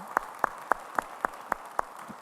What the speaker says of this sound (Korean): 모두 다 자리에서 일어나셔서 기립해서 함께 박수하시겠습니다